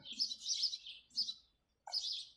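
Young birds chirping at the back of a garden, bright high tweets in quick bursts with a brief pause before a final sharp burst, fairly close and without talk.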